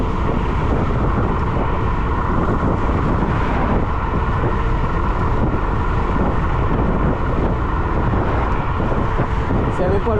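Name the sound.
wind blowing into microphone while riding electric scooter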